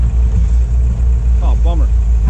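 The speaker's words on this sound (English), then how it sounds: "He's got his other excavator here, so 2 machines" A diesel excavator grading a lot idles with a steady low rumble close by, while someone speaks briefly over the engine noise.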